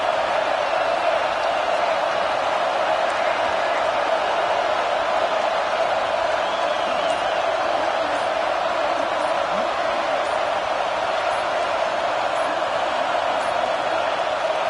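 A home crowd roars continuously in the stands at an NC State football game, a dense, unbroken wall of stadium noise holding steady at high volume for the whole stretch, with no distinct break or lull.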